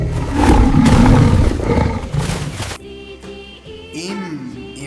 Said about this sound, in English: L for lion.